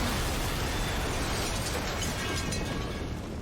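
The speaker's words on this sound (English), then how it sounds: "Explosion." A car bomb explosion from the TV show Person of Interest, a loud sustained roaring blast with crackling debris and rumble throughout, dense and continuous, no talking.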